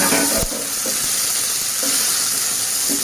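Steady hiss of cashews and raisins sizzling in hot oil, with a few soft clinks of stirring against the pan.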